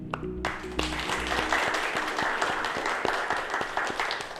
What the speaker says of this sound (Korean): 우리 큰 박수로 박도영 교수님을 환영해 주시면 감사하겠습니다